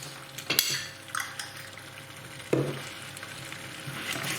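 Chicken pathia sauce being stirred in a pan: a soft background sizzle broken by a few sharp scrapes and clinks of a utensil against the pan, quiet and close, with no voices.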